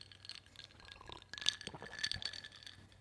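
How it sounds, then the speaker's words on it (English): Ice cubes clinking against the sides of a glass of water on a table, several light bright clinks and a small rattle as the glass is handled, close and fairly quiet. "Now, I had a glass of water and ice just like this."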